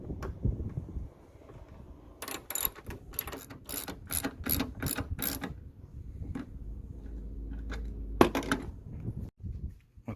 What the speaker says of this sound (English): we're gonna start by removing these bolts.